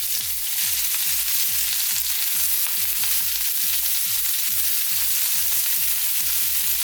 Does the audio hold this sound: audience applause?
no